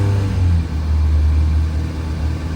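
A Classic Mini 7 engine running after being started, a steady low rumbling idle held close and loud throughout with slight fluctuations.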